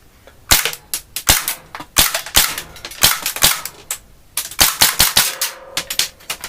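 A chrome stainless Tokyo Marui Desert Eagle .50AE airsoft pistol fires about a dozen sharp, loud cracking shots in an irregular rapid rhythm, each with a snappy slide clack, close up with no talking.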